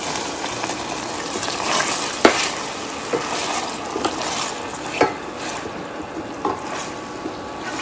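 Eggplant sautés in a pan with tomato puree added, a low continuous sizzle with a few sharp knocks and scrapes of a spoon scattered through.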